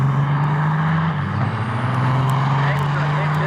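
Loud, steady diesel drone from a bright orange diesel pickup lining up at an All Truck Nationals drag race at Cecil County, holding a low constant rumble for the whole stretch over dense crowd and track noise.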